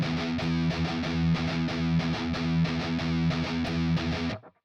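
Heavily distorted electric guitar chugs through tight rhythmic triplet and gallop figures, loud and driving, then cuts off abruptly near the end with nothing else heard.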